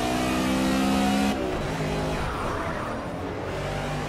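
Race car engines roar in the Project CARS video game at Road America, a loud sustained McLaren GT Touring engine drone that shifts pitch midway as the car changes gear or passes, with no talking.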